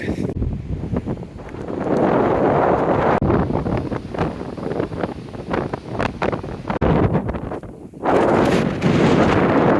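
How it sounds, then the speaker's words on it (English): Strong wind buffets the microphone while someone walks the coast near Hengistbury Head. A loud, continuous rumbling roar surges and dips throughout, with no talk. "the wind to our backs is much more enjoyable"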